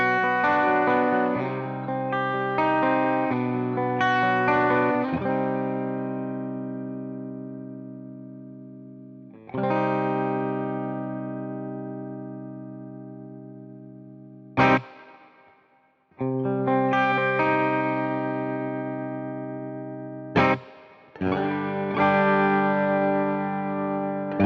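Guitar played through a Fender amp model in AmpliTube 5 software with reverb and tremolo, ringing sustained chords that decay slowly, struck in several separate phrases with pauses between.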